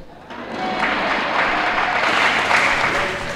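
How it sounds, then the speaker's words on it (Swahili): An audience at a church sermon gathering bursts into applause, a dense, sustained clapping that swells quickly and carries on loudly to the end. "Ona mmempigia yeye makofi mengi kuliko mimi."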